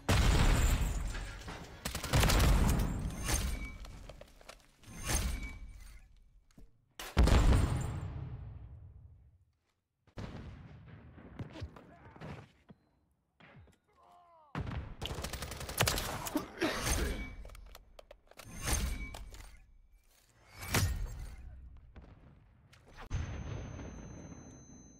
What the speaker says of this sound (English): Watch out, grenades.